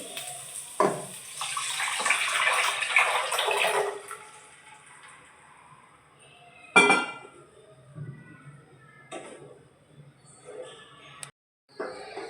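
Water poured into cooked dal for a Maharashtrian chakolya dish, heard as a short splashing pour near the start, then fainter kitchen clatter and scattered knocks.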